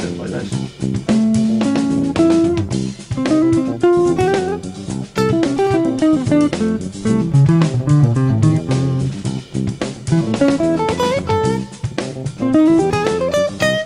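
A jazz instrument, likely a guitar, plays a busy run of notes and 13th flat 9 chord voicings drawn from the half-whole diminished scale, loud and close throughout.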